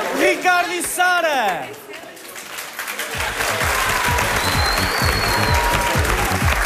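Audience at a Portuguese television gala breaking into loud, sustained applause and cheering after a host's voice, the clapping dense and steady with rhythmic music pulsing beneath it.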